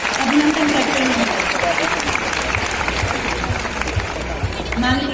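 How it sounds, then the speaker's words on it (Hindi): Loud, steady applause from an audience welcoming the deputy chief minister at an Independence Day event, continuing for several seconds, with voices talking over it. "जोरदार तालियों के साथ अभिनंदन करते हैं"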